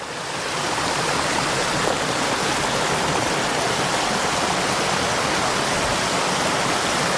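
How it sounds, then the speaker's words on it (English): A small waterfall on a mountain creek gives a steady, loud, broadband rush of falling water, close and constant from start to finish with no voices. "A little waterfall right here."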